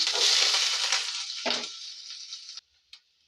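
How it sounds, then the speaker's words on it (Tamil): Chopped onion dropped into hot oil with mustard seeds, a loud burst of hissing sizzle that fades over a couple of seconds and cuts off, followed by a brief faint clink. "ஒரு நல்லா பெரிய சைஸ் வெங்காயத்தை நான் அரிஞ்சு இந்த மாதிரி எடுத்து வச்சுருக்கேன். நம்ம இதை போட்டுக்கலாம்."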